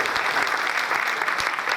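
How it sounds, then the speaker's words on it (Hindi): Loud applause fills a Vestige network-marketing meeting hall for a member who has reached crown director, a dense, even wash of many hands clapping with no pause. "आप लोग एक बार जोरदार तालियां होनी चाहिए"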